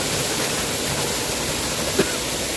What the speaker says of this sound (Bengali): দেখো কি সুন্দর লাগছে ঝর্ণাটা।